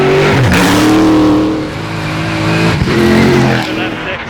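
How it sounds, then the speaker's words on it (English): NASCAR V8 engine fitted in a rally car, driven through woods: loud, close engine roar rising and falling through gear changes and revs, with rough tire and gravel noise underneath. "hear a V8 going through the woods"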